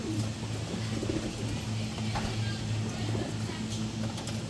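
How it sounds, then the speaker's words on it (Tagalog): Soft pigeon or dove cooing repeats steadily at a training site in Tanay, low and moderately close against constant background noise. "Pinupuntahan talaga ng ibon"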